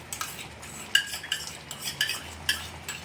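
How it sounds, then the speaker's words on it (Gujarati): Cashew paste going into a pan and being stirred for malai methi matar, with a spoon clinking and scraping against the metal in several distinct taps over a soft background hum. "કાજુની પેસ્ટ ઉમેરશું"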